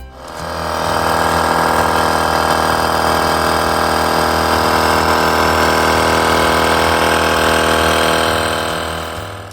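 A GOOLOO GT160 portable tire inflator air compressor starts up and runs, a loud, steady, buzzing motor drone with rapid pulsing, close and alone, ending as it winds down.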